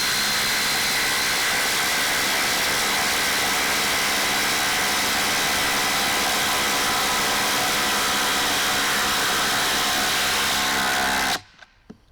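A DeWalt 887 and a Ridgid Octane impact driver run side by side driving lag screws, a dense continuous whirring and hammering that holds steady for about eleven seconds and then stops abruptly.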